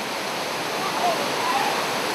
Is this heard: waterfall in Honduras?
yes